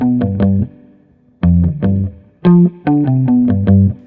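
Bass guitar played through two layered amp simulations in Logic Pro X, a short distorted riff of plucked notes and phrases with gaps between, fuzzy and upfront, no talking.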